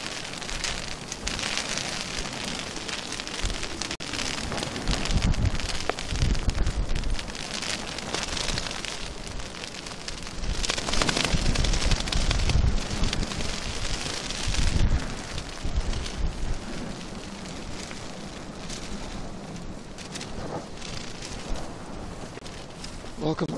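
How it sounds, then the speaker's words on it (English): Steady broadband hiss of windy rain showers falling on a surface at Manchester Airport, with gusty swells in intensity throughout and a voice talking faintly underneath. "the rain showers are going through quickly. It's so windy."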